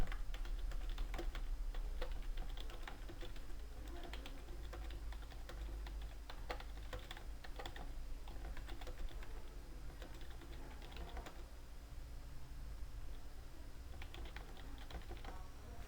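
Steady keyboard typing runs throughout, with quick irregular key clicks fairly close over a constant low hum from a computer setup, and no voices.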